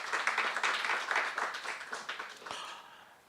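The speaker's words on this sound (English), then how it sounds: "Can we give ourselves a round of applause?" Audience applause at a health sector summit in Ghana, a brisk burst of many hands clapping that gradually thins and fades toward the end.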